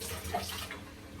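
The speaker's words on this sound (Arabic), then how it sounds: "اولا اغسل ايديا" Tap water running while hands are washed, a brief, soft, steady splashing hiss with no voices.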